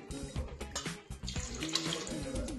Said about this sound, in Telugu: 1 గ్లాస్ నీళ్ళు పోసుకోవాలండి.